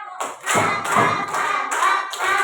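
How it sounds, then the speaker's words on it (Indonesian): Second-grade children in a classroom clapping together in a counted pattern, about five distinct bursts of many hands at once, loud and close with slight unevenness between claps. "Kalau sudah selesai, anak-anak diperhatikan dulu tepuknya. 5 kali tepuknya."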